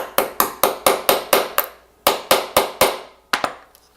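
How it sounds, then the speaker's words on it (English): A small hammer taps a pin through a metal watch bracelet to resize it, a quick run of sharp metallic knocks in even clusters, close and crisp, with short pauses between groups. "I'm going to take the little hammer and"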